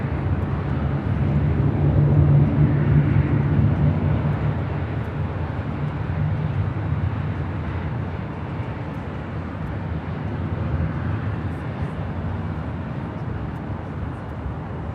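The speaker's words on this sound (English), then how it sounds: "Nevada in an A320, wearing the JetBlue Vacations livery" Steady broadband roar of a JetBlue Airbus A320 jet in JetBlue Vacations livery at Los Angeles International Airport, sustained and fairly loud, swelling slightly early on then holding a continuous rumble and hiss.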